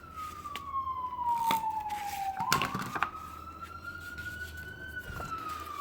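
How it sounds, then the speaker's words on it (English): A passing ambulance or fire truck siren sounds outdoors, wailing in long rising and falling sweeps at moderate distance with faint background traffic. "Another ambulance or fire truck."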